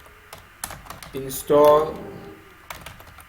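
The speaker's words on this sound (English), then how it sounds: "then you type the command pip" Computer keyboard typing a command at a command prompt, a few scattered close keystrokes mixed with someone speaking.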